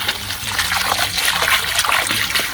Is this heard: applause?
no